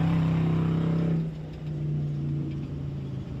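A 4WP Every Man Challenge off-road race car engine roars loudly up close during qualifying, a steady high-pitched drone that drops in pitch and keeps humming as it pulls away.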